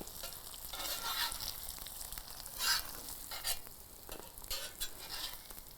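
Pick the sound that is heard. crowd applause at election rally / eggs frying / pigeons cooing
eggs frying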